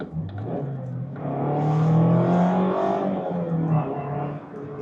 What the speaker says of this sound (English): The exhaust sounds okay.